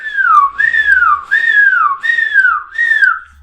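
A human voice imitates an alarm signal by whistling, five rising-and-falling siren-like sweeps in a steady rhythm, close and clear with nothing else heard.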